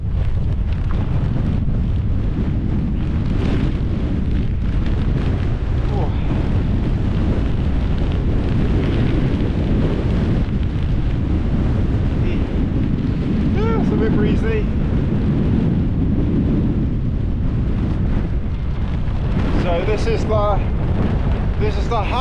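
Strong wind gusts at a high mountain pass, roaring continuously and buffeting the microphone close up, with faint voices mixed into the blustery noise.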